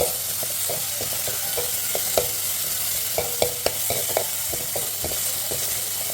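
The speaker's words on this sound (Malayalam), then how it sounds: "ചീനച്ചട്ടി അങ്ങ് എടുത്ത് വെച്ചിട്ട് എണ്ണ ഒഴിച്ചിട്ട് എണ്ണ ഒന്ന് ചൂടായപ്പോൾ സവോള ഇട്ടിട്ടുണ്ടായിരുന്നു" Sliced onions sizzle in hot oil in a pan, with a constant frying hiss broken by irregular scraping clicks as a spoon stirs them.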